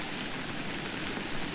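Steady, dense hiss of rain falling in a misty mountain landscape in the video game Death Stranding, an even wash of drops with no voices over it.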